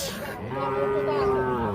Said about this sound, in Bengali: আমরা এখানে দেখছি বেশ কিছু বাছুর